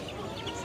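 Domestic chickens cluck at a crowded poultry market in Mirpur-1, a brief burst of close, overlapping hen and rooster calls amid busy market din.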